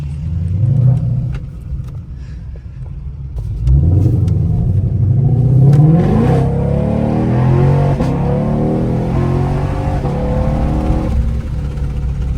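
A Ford Shelby GT500 engine revs hard while driving in Chicago, a loud, close rumble that surges and climbs in pitch through several throttle pulls, sustained throughout.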